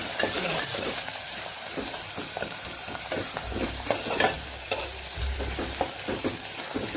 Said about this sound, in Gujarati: ધીમા ગેસ ઉપર આપણે ચટણીને સરસ સાતળી લેવાની